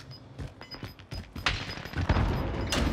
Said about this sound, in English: I hear him sniping